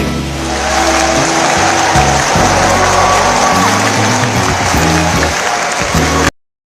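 Audience applauding at an outdoor Thai political rally, a steady, dense wash of clapping with crowd noise and low rumble throughout, fairly loud and close, ending abruptly.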